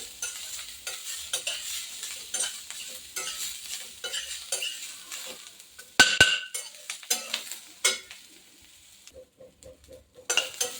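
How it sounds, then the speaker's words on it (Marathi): Sesame seeds dry-roasting over a low gas flame in a pan, stirred with a spoon: repeated soft scraping and light crackle with a few sharper clinks against the metal, close and alone. "तीळ असे छान भाजून घ्यायचे"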